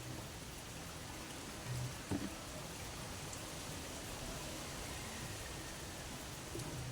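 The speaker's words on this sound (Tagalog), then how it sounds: "Grabing ulan." Heavy rain falls steadily throughout on a rural morning, a soft even wash of noise with a few brief louder bumps, fairly quiet overall.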